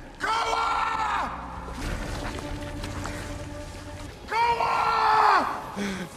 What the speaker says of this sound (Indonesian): Yang bisa dia lakukan sekarang hanyalah berteriak, memanggil nama Koa.